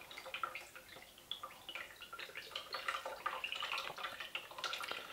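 Water dripping and trickling from a nose after a controlled gel grow test, a steady run of small, close, crisp drips and splashes with no talking.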